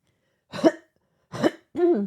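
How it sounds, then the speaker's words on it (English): Three short coughs close to the mic, two dry bursts followed by a throatier one, in an otherwise quiet room. "Still have that little bit of a cough."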